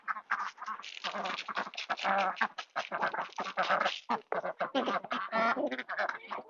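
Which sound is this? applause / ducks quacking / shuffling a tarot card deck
ducks quacking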